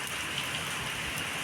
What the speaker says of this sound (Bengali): দেখো, বৃষ্টি এত বৃষ্টি পড়ছে